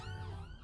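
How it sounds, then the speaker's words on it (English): Ambulance siren on a London street, a short distant wailing tone rising and falling faintly under the background, heard alone. "Ambulance."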